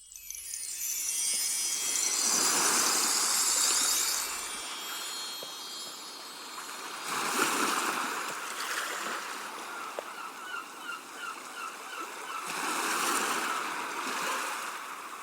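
Waves gently roll and crash near the water's edge in broad, recurring surges of hissing wash, moderately loud, with no speech.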